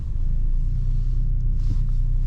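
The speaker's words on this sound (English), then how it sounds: "You start the car by pressing the start engine button. It comes to life and we are ready to go" A Hyundai i20 with the 1.0 T-GDi three-cylinder turbo engine running after a push-button start at night: a steady, low, close engine rumble with an even drone and no talking.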